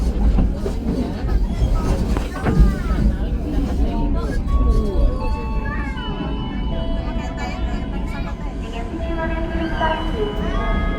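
A train rolls along track 2 into Yogyakarta Tugu station with a heavy, continuous rumble, clattering wheels and rising metallic squeals and screeches, with voices faintly mixed in.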